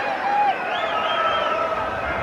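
A stadium crowd of about 35,000 at the 1983 Wales v Brazil football match makes a steady, distant roar and murmur while a commentator talks over it.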